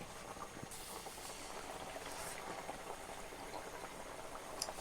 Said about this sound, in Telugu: మనం ఈ విధంగా చేసి పెట్టిన దాన్ని నూనెలో వేసుకోవాలి నూనె బాగా కాగి ఉంటుంది కాబట్టి వెంటనే బాగా ఈ బూరెలు బాగా పొంగతాయి